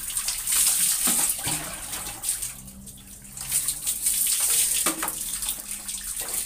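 Steady rushing of running water, like a shower spraying, continuous and fairly loud with a brief dip in the middle.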